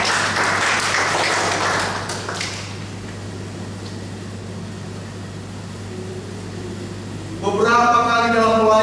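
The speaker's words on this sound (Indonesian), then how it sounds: "Tepuk tangan dulu buat Tuhan Yesus." A church congregation at GBI Kemah Pujian Pelopor in Jakarta breaks into brief applause that fades within a few seconds, leaving steady room hum before a voice begins speaking near the end.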